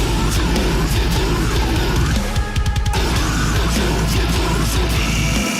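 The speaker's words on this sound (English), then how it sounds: "For those who don't know, deathcore sounds like this." Deathcore metal plays loud and dense, with pounding drums and heavily distorted guitars driving a relentless wall of sound that briefly breaks into choppy hits midway.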